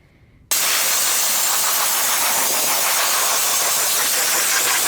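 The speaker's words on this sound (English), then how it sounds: "I'm gonna go in with compressed air and just blow everything off around the intake manifold." Compressed air blasts dirt and debris off the intake manifold of a BMW B58 engine, a loud, steady, close hiss that starts abruptly after a brief quiet moment and runs continuously to the end.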